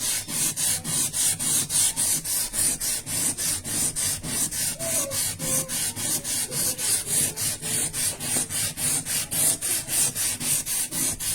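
An ordinary chondrite meteorite is polished on abrasive grit, giving a loud, regular back-and-forth rasping rub at about two strokes per second that continues steadily with no voices.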